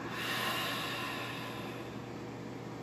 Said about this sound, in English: And exhale, take a ha.